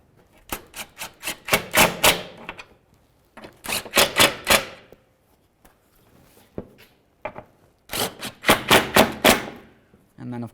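A ratchet tightens radiator mounting bolts on a 2012-2016 Subaru Impreza in three close, loud bursts of rapid clicking, separated by short pauses.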